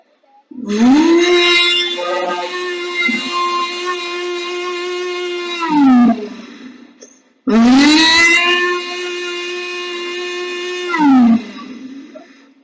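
A voice mimics a kitchen mixer grinder blending ground coconut, giving a loud, sustained motor-like drone that holds steady for about five seconds, winds down, then starts up again for a second long run.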